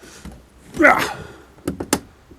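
The door of a Land Rover 110 2.5D springs back and shuts with a solid thunk, followed by a couple of sharper knocks, close by, with someone speaking around it.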